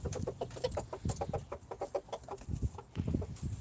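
Chickens on an allotment clucking close by, a busy overlapping series of short low clucks and soft cackles in quick irregular rhythm, with no talk.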